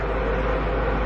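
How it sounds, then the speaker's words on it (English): A bathroom exhaust fan runs close by, giving a steady, even broadband whir with a low hum underneath. It holds constant through the moment with no voices or other sounds. "sorry for the fan noise."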